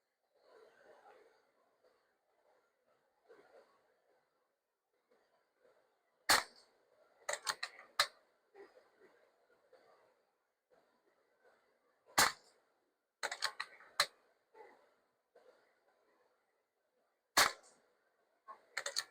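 A Beeman Raider air rifle fires pellets, with sharp isolated cracks spaced several seconds apart, close and crisp against a quiet background, along with a few faint handling sounds between shots.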